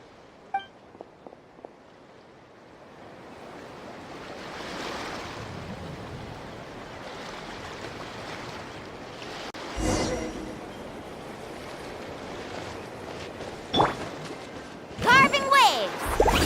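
In Genshin Impact, a Sharky surfboard carves through ocean waves, a continuous watery rush that swells and splashes in bursts, with a few sharp game effects and chimes toward the end.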